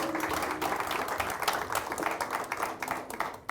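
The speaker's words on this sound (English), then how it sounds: "One more round of applause for Eva." Applause for Eva at an event announcing the top 100 brands loved by women in Kenya: a continuous, moderately faint wash of clapping from a crowd, steady for the whole stretch.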